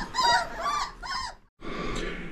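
Young puppies whimper and yip up close in short, high, whiny bursts, broken by a brief pause before another soft whine, fairly quiet.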